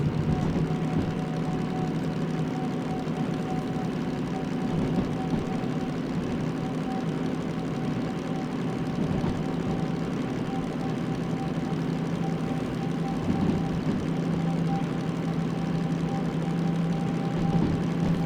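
Locomotive engine in the Derail Valley train simulator held at high revs, a steady low drone with a constant tonal hum running unbroken throughout, loud and close with no voices.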